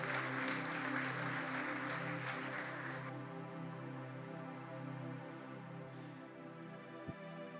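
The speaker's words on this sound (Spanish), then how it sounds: "dale un fuerte aplauso a Él" Church congregation applauding during a Spanish-language sermon, a fairly faint wash of clapping for about three seconds that gives way to a quieter, sustained musical background.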